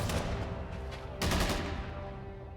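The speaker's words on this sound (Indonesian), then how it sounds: "tiba-tiba ada suara tembakan" A rapid burst of gunfire crackles in a Moon Knight TV episode scene, a flurry of shots followed by a second louder volley, sharp and close.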